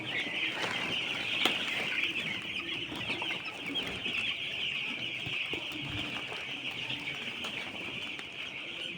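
Crowded poultry-farm chickens cluck and flap in a steady, dense din, with a constant high chatter over scattered wingbeats and low rustling, no talk present.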